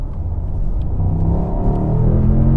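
Mercedes-AMG SL (2023) V8 engine rumbling steadily up close, a deep continuous low-end drone that swells slightly as it runs, with no talk over it.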